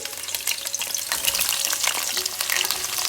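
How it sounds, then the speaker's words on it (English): A full onion, roughly chopped, fries in two to three tablespoons of hot sunflower oil for a chicken korma, giving a loud, steady, dense sizzle with crackling bursts, alone throughout. "So the oil is hot, so I'm going to add 1 full onion"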